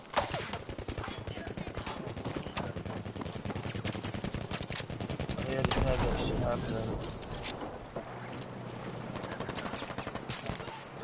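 Dense gunfire from a PS4 video game, including sniper fire, rattles continuously at fairly low level, mixed with game effects and blended with player chatter.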